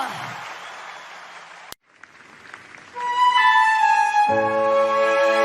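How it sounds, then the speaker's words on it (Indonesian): A congregation applauds during a Sunday church service for a short burst, which cuts off into near silence before sustained keyboard or organ tones swell in. "Mari sama-sama kita berikan tepuk tangan yang terbaik hanya buat Allah kita."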